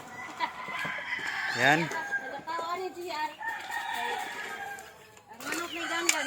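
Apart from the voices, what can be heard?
chickens being fed, rooster crowing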